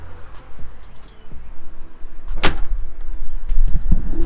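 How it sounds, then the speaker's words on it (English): The rear tailgate of a 4x4 fitted with a custom storage setup swings shut with one loud, sharp slam midway, preceded by light handling knocks and followed by low rattling movement. "if any of you are wondering if the tailgate's going to shut"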